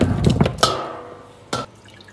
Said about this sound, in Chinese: 把焯好水的猪蹄儿咱们捞出来清洗一下